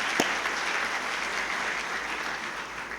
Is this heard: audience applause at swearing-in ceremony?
yes